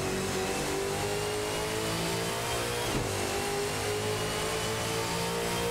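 Ford Mustang and Ford Falcon FG race cars in a video game hold a continuous engine drone with steady revving, loud and unbroken throughout, no talking.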